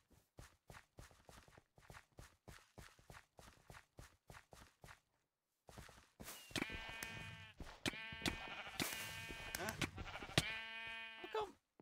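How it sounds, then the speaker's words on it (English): Sheep in a Mineplex Minecraft mini game bleat repeatedly over quick footstep clicks, first sparse and rhythmic, then dense and loud with overlapping cries and game effects. "Red's stealing their sheep."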